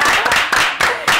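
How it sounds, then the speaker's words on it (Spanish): Studio audience clapping at a Spanish-language TV interview, a short burst of applause at close range lasting about a second, with voices mixed in. "Un aplauso para nosotros."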